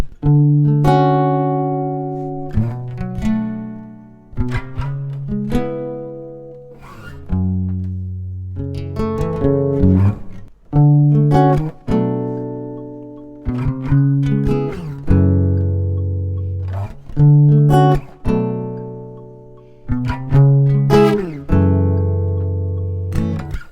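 Strummed and plucked guitar chords move through a slow progression, each ringing out and decaying before the next, played up close with no talking.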